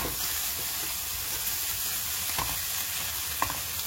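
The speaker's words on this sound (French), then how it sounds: "Je rajoute l'oignon émincé." Sliced onion hitting a hot pan for a goat colombo, giving a continuous close sizzle with faint stirring scrapes and no voices.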